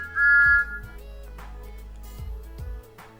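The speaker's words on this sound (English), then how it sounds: "One day, Thomas was fitted with a brand new whistle." Thomas the Tank Engine blowing his brand-new whistle, a short, bright, piercing toot at the start, followed by low rumbling and soft clanks.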